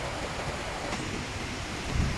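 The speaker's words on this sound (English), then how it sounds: "there's actually a gorgeous creek right behind you" Steady rushing water from a creek just behind a camper van campsite, a continuous broadband wash with no talking, close and fairly even throughout.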